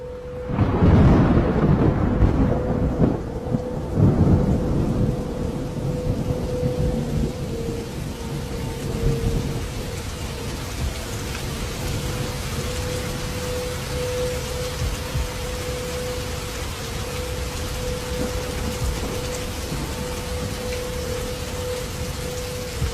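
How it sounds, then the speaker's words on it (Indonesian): Heavy rain pouring steadily with a loud rumbling thunder roll at the start, then continuous dense rainfall hiss and a faint steady tonal hum underneath, no voices. "ketika sedang turun hujan lebat"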